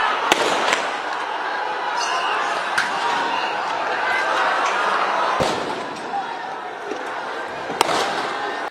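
Sound grenades fired by police to scatter protesters, heard as sharp distant blasts and a few loud bangs over a dense, continuous crowd roar.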